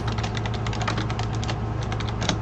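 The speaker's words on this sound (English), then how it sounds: "Sorry if the key typing is loud. I gotta get like a quieter keyboard." Rapid, continuous typing on a loud computer keyboard, with dense clacking keystrokes close to the microphone and no talking.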